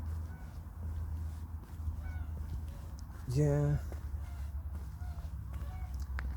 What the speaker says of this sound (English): You can hear the geese, they're giving it some.